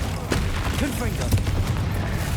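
Confringo spell blasts in Hogwarts Legacy, dull booming bursts layered over busy combat noise and a voice speaking throughout, with a couple of sharper cracking hits standing out briefly.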